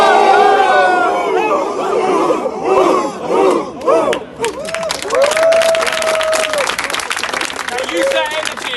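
A large crowd at a pickup artist gathering in Peru shouts the battle cry "Spartans" together in loud group yells, with chatter, cheering and bits of applause mixed in around the chants.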